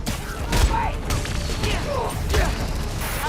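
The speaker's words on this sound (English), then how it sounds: "Need to head toward the gunfire." Distant gunfire in Spider-Man: Miles Morales during a snowy blizzard in the city, heard as scattered muffled bursts and thuds under a steady wind-like ambience, with a voice speaking briefly.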